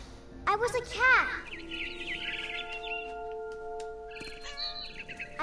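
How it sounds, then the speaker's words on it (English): Chirpy bird calls of a barn swallow in a video game, a few sharp rising and falling tweets near the start, with synthetic tones and a voice-like layer continuing underneath. "Then I heard chirping outside my window. It was a barn swallow going back to her nest."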